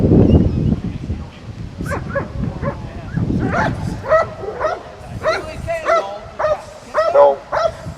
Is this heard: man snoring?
no